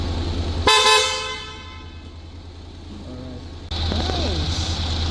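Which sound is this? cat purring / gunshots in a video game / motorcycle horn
motorcycle horn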